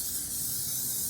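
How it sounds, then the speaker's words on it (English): Pam cooking spray hisses onto a pan in one continuous close burst, with no other sound. "I'm gonna spray this pan first."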